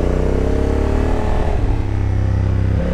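Motorcycle engine on Metzeler RoadTec 02 tyres running steadily through technical mountain curves, a loud continuous mid-pitched drone that shifts pitch as the rider works through the bends, with no talk.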